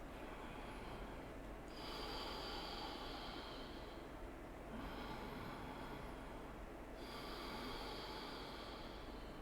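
Slow, deep yoga breaths during a vinyasa pose, each long hissing inhale or exhale swelling and fading in a steady cycle of roughly three breaths, close and fairly quiet over a low background hum.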